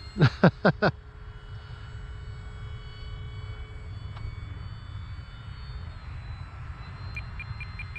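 An RC model P-47 Thunderbolt airplane flies with its engine droning steadily at a distance, preceded by four quick, loud electronic beeps at the start, then a constant hum with a faint tone near the end.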